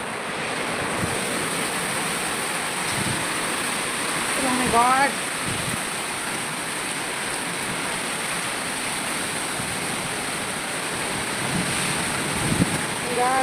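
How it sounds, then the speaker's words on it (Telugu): Strong wind roars steadily with rushing rain in a summer storm, a continuous heavy wash of noise, with a couple of brief louder gusts and faint voices underneath. "ఇంత గాలివాన"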